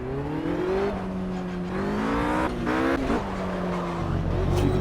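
Tires squeal steadily in the Project Cars racing game as a car is steered full lock from side to side, the shrill whine bending in pitch over a loud, continuous engine roar.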